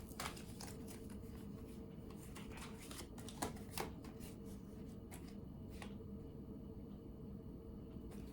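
Tarot cards shuffled by hand in a continuous soft riffling and shuffling, with a few sharper flicks and slaps, close but quiet over a low steady background rumble.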